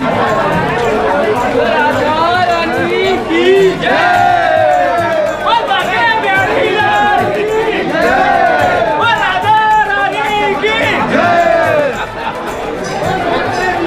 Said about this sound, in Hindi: यहाँ की गलियों का माहौल देखिए यहाँ भी बहुत ज्यादा भीड़ है